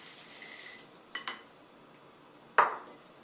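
Orange chocolate chip cookie dough with orange zest being mixed in a bowl, faint scraping with a few quiet clinks of a utensil against the bowl and one sharper knock near the end.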